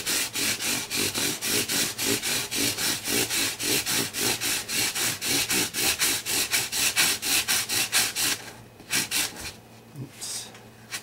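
Sandpaper of 1500 grit rubs a fret on a Brazilian rosewood guitar in quick, even back-and-forth strokes, close and steady, thinning into a few scattered rubs near the end.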